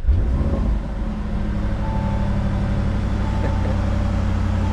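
Car exhaust roars in a loud, steady low drone with a deep throbbing rumble that holds for the whole stretch, as if the engine is idling or revving close by.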